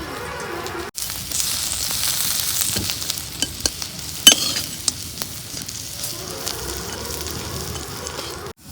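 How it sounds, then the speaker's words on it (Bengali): Dried fish frying in a little hot oil in a wok, a steady close sizzle with scattered crackles and stirring clinks, briefly interrupted near the start and continuing on its own throughout. "তেল গরম হয়েছে, এখন আমি শুটকি মাছ ভাজে নেব।"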